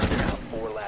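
A short burst of rapid gunfire from Rainbow Six Siege, shots cracking through walls in quick succession, fairly quiet and brief.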